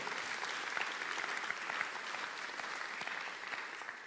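A church congregation claps during a worship service, a steady dense wash of applause sustained throughout and fading slightly at the end.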